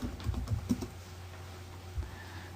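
A command is typed on a computer keyboard as a burst of soft, close key taps in the first second, then low room hum with one more faint tap.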